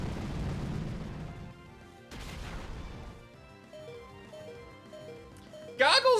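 The Pokemon move Explosion in Pokemon Raging Ruby: a low rumbling blast, then a sharp crash, followed by quieter game tones and a bright chirp at the end.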